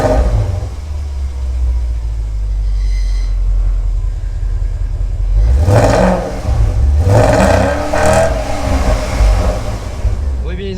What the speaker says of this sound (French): un échappement réellement sport sur votre Panamera